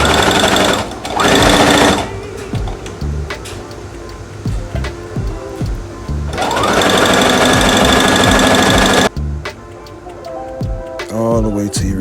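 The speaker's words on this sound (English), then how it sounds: "And you begin to sew." An electric sewing machine stitching ribbon onto a tutu, loud rapid mechanical whirring in several runs separated by brief pauses, close by and mostly alone.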